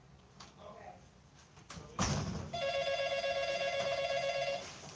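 A telephone rings indoors, a sustained electronic ring lasting a couple of seconds after a sharp thud or door slam, with faint background sounds before it.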